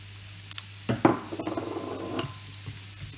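Onion tossed onto meat in a hot frying pan sets off a rising sizzle after a few clattering knocks, the frying settling into a steady crackle close by with no talk.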